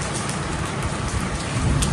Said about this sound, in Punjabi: ਮੈਨੂੰ ਲੱਗਦਾ ਗੁਰਦਾਸਪੁਰ ਦਾ ਪਹਿਲਾ ਮੀਂਹ ਹੈ ਜਿਹੜਾ ਇੰਨਾ ਵਧੀਆ